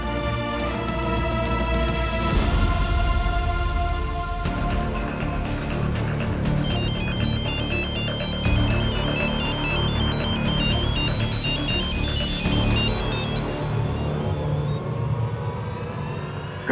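A phone ringtone plays over a bed of tonal music, repeating melodic rings that carry on for many seconds without pause, loud and close, with no talking.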